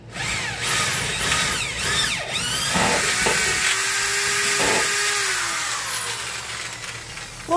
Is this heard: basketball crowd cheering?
no